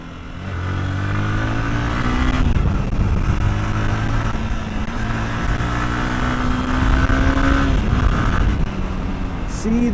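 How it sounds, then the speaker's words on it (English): A Yamaha R15 sports motorcycle is ridden, its engine droning steadily and loud close to the microphone, with pitch rising and falling as the rider shifts and accelerates, under wind rush. "See how fun this motorcycle to ride."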